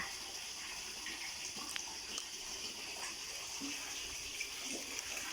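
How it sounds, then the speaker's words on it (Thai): A gentle garden waterfall makes a soft, steady trickle and splash of flowing water throughout, quiet and even, with faint small drips; no one speaks. "นี่ก็จะเป็นโซนน้ำตกของเรา นี่ค่ะ มีน้ำตกเบาๆ นะคะ"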